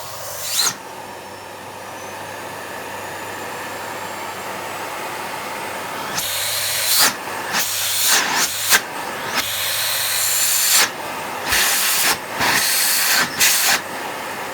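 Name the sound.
SEBO Airbelt D2 Storm vacuum cleaner motor running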